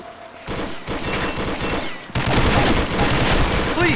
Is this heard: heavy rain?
no